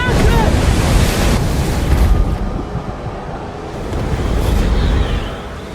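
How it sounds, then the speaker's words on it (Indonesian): Ocean waves crash in a storm in an action film, a loud, continuous roar of surf mixed with gusting wind that surges and eases over several seconds, with no speech. "Ia berjuang keras melawan terjangan ombak demi mencapai kapal."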